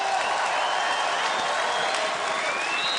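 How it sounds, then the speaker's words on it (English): Steady roar of a crowd cheering and applauding at a beach volleyball world championship match in Rotterdam, continuous and loud throughout with no clear break. "The crowd certainly trying to encourage them."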